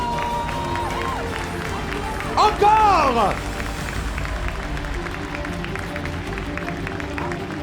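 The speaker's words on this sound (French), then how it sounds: "je voudrais un tonnerre d'applaudissements pour vos chevaliers!" An audience applauds the knights at a medieval-themed show, with steady crowd clapping and cheering and a loud shout rising briefly above it before the applause carries on at an even level.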